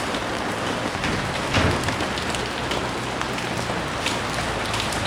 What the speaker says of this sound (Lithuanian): Lietus nesiliauja vis,